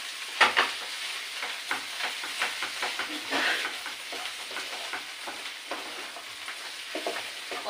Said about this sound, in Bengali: এইভাবে কিছুক্ষণ ভাজা ভাজা করে নেবো